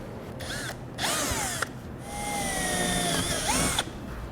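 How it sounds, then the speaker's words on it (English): A power drill with a 1/16 inch bit whines in several short bursts while drilling small pilot holes for self-tapping screws, its pitch rising and falling as the trigger is squeezed and released, close and fairly loud. "We'll drill a very small pilot hole at each one"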